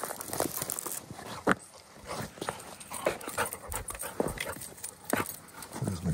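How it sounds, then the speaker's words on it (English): A dog moves around nearby outdoors on rocky ground in Northern Ontario, with faint panting, sniffing and scattered scuffs and taps from its paws. The sounds come in soft, irregular bursts against quiet surroundings. "There's my dog."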